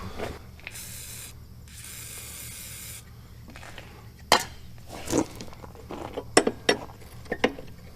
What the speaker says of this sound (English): I'm going to try to spray some penitrin oil on there to help that.